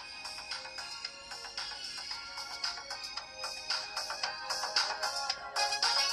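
A tinny melody plays from the small speaker of a JETE AM2 smartwatch, a thin, bright tune with quick notes, quiet and steady with no talking.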